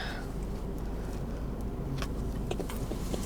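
Steady low rumble of a car being driven on a windy day, a continuous muffled road and engine drone filling the cabin, with a few faint clicks and rustles above it.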